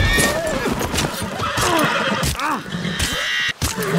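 A horse in the video game Red Dead Redemption 2 neighs and whinnies loudly and close, with clip-clopping hooves and busy game sounds running underneath throughout.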